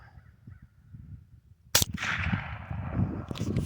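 A Colt M4 rifle chambered in .22lr fires a single loud crack outdoors, followed by a sustained noisy wash of wind or handling sound; only one clear shot stands out.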